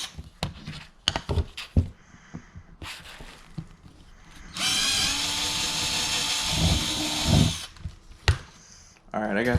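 A power drill bores a hole for a DIY kayak brush gripper in one sustained whine of about three seconds, preceded by scattered handling knocks and clicks and followed by a few more.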